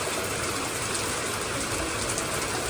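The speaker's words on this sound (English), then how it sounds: "yes, it's raining outside so heavily." Heavy rain pours steadily outside, a dense, even hiss of downpour that stays loud and unbroken, with no voices over it.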